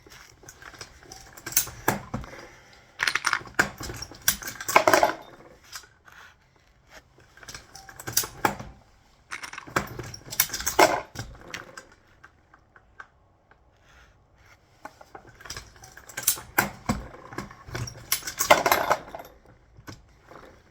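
A Lee Pro 6000 press loads PTR 91 cartridges, some in S&B military NATO cases, making clusters of sharp metallic clicks and clatter in bursts with quiet gaps between them, close and fairly loud.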